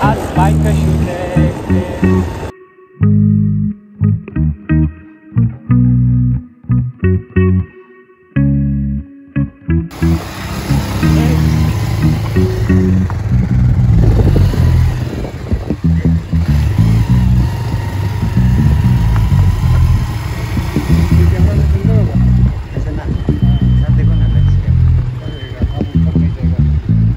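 A motorcycle engine runs and revs at close range on a road near the Bana boundary between East and West Kameng, first in choppy bursts and then as a steady loud drone, while people talk over it.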